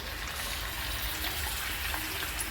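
A steady, continuous splash of water pouring into a pan of drumstick pods, without pause, close and fairly loud, with no voices.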